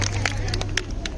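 At a magic show at BioSpectacle 2023, an audience applauds to welcome a woman on stage, irregular bursts of clapping over a steady crowd murmur and a low hum.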